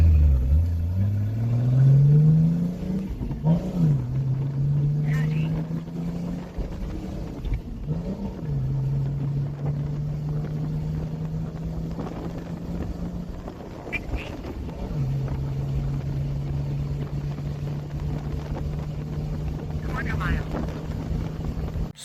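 A turbocharged Mercedes OM603 diesel car accelerates on a test drive, its engine note rising in pitch through gears with clear shifts, steady droning cruise between pulls, and wind noise over the cabin.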